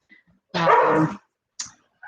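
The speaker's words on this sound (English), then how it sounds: "excuse my dogs." Dogs at home let out one loud, sustained bark-whine and then a brief yip, close by, with a few faint quieter sounds around them.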